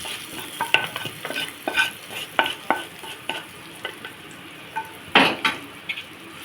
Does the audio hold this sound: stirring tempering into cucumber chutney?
yes